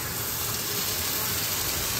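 Bread slices spread with red sauce fry in a little oil in a pan, giving a steady, dense sizzling hiss that holds evenly throughout with no voices.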